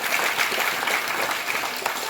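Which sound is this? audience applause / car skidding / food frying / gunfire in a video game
audience applause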